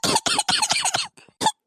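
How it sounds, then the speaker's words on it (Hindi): A series of harsh, rapid coughs in a quick burst, then a short pause and one final cough, close and loud, from a person complaining of a bad cough. "बहुत खांसी होती है"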